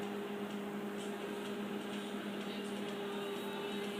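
A microwave oven running with a steady even hum and fan whir at moderate level, unchanged throughout with no interruptions.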